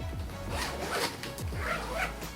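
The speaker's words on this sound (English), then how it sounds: "But once you guys are done, you guys can zip it back up." A zipper closes on the cover of a gel memory foam wheelchair cushion, a close, steady scratchy rasp lasting a couple of seconds with small pulls and bursts along the way.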